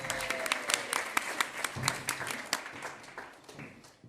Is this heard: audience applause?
yes